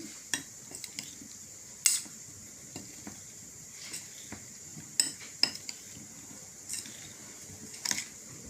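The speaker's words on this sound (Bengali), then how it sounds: "এবার এটাকে আমি মেশাবো হালকা করে মিশিয়ে নিচ্ছি" Fried potatoes being tossed with turmeric and chili powder, a spoon clinking and scraping against the dish in sparse, irregular taps with a faint sizzle-like hiss underneath.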